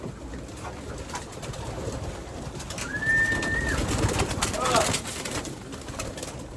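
Soft cooing of pigeons against a steady outdoor hiss, with a brief whistled note partway through.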